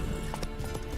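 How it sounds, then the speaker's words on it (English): Horse galloping in the video game Witcher 3, quick muffled hoofbeats in a brief burst over steady game background sound. "Run, Roach."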